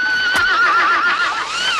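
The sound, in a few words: horse neighing, sound effect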